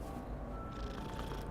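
Cat purring as it is petted in the video game Hogwarts Legacy, a steady low rumble held close and continuous for the whole moment, with game ambience and music beneath and no talk.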